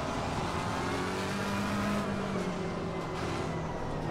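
Race car accelerating in the racing game Assetto Corsa Competizione on a wet Silverstone circuit, a steady broadband engine roar with spray-like hiss, moderately loud and continuous without talk.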